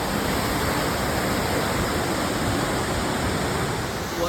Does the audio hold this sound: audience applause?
no